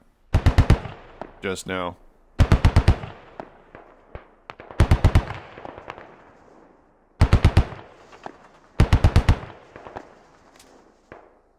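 Gunfire at an MRAP armoured vehicle in the video game Squad: repeated loud, close bursts of automatic fire separated by short gaps, with echoing tails and a brief spoken voice between the volleys.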